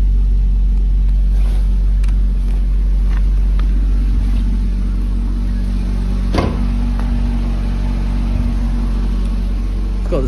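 A Porsche Cayman 2.7 idles after a cold start with a steady, loud low engine drone and a few faint clicks and knocks over the hum. No one speaks.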